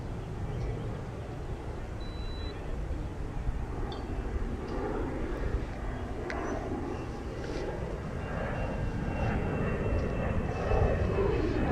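Micro Drone 3.0 on its first flight in windy conditions, giving a steady broadband whirring drone that persists throughout, blended with wind noise.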